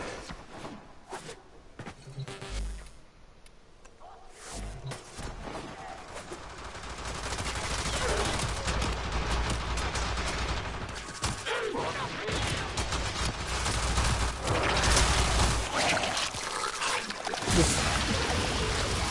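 Ignis Wraith flamethrower-style weapon in Warframe firing continuously into a crowd of enemies, a dense roaring stream of fire that builds and holds loud through most of the stretch, with game effects layered over it.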